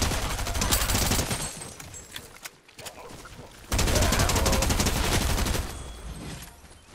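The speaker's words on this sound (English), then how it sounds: "Shots, shots, northeast." Rapid Fortnite gunfire rattles in dense, loud volleys, with a brief lull in the middle before another sustained burst of shots resumes, the shooting close and continuous.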